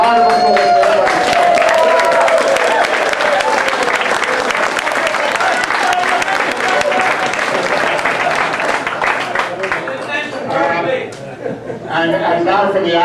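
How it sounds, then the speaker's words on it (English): Loud, sustained applause from a gathered crowd at a 50th-anniversary reunion of the Jokers, with guests from around the world; close, dense clapping mixed with chatter and chuckles, thinning briefly near the end before swelling again. "A round of applause for everybody."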